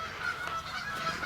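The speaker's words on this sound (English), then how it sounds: "you can hear the geese over next door in the soy field" Geese honking from a neighbouring soy field near a chicken coop, a steady stream of overlapping distant honks carrying across the open farmland with no other sounds.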